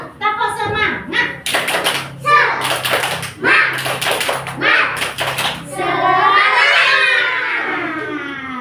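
Children in a classroom clap a rhythmic chant in unison, with bursts of patterned claps mixed with their voices, while a teacher speaks between rounds and the group ends in loud shouting.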